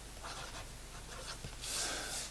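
A fountain pen with a palladium nib glides across smooth Clairefontaine 90 gsm paper, making a faint, soft, close scratching with a slight brighter hiss near the end.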